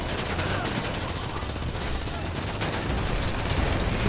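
Sustained rapid gunfire in GTA V, a thick, unbroken barrage of shots at close range, loud and steady from start to finish.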